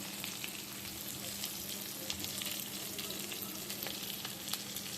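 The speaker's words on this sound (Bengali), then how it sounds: "সবগুলো একসঙ্গে ভালো করে ভাজবো।" Chopped tomatoes and other ingredients frying together in a pan for mango chicken, a steady low sizzle with light crackles and occasional stirring clinks, fairly quiet and continuous with no voices.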